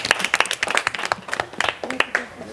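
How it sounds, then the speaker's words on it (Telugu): A group of children clap their hands in irregular bursts at a small celebration for poor families, the sharp claps close by and lively with a few voices mixed in. "క్లాప్స్ కొట్టాలా"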